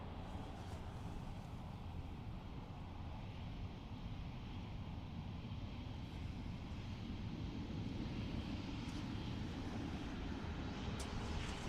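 A Vueling airliner departs Dublin Airport with a low, steady engine rumble at moderate distance, swelling slightly toward the end, with some wind buffeting on the microphone.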